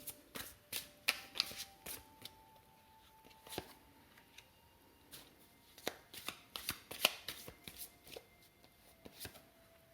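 Tarot cards are riffled and shuffled by hand up close, making quiet crisp flicks and snaps in irregular bursts with short pauses between them and no talk.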